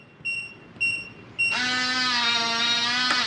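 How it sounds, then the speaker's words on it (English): A Kwikset 914 smart lock gives two short beeps, then a long, loud buzzing beep lasting nearly two seconds as it locks the door. "It should flash green, long beep at you, and you're done."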